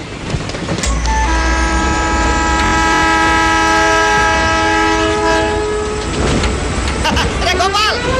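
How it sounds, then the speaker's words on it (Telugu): A train arrives at a station with a loud, sustained horn blast sounding over heavy rumbling and rail clatter, close and continuous throughout, with voices in the background. "రైలు వచ్చేస్తుందండి"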